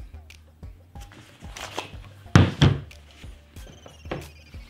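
A CO2 magazine is pushed into a green gas airsoft Glock 17 pistol, giving a few close, sharp plastic-and-metal clacks and thunks amid handling noise.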